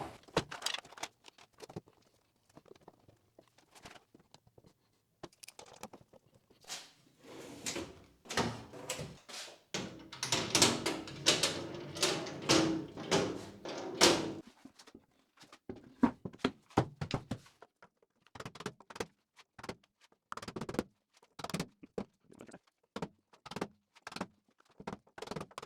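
Drawer fronts being fitted onto a workshop cabinet for a milling tool station, a long stretch of scattered close wooden knocks, taps and sliding thuds with a busier patch of handling in the middle, no talk.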